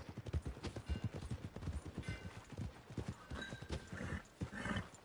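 Horse hooves clip-clop steadily in Red Dead Redemption 2, close and fairly loud, with a brief whinny and faint game sounds mixed in.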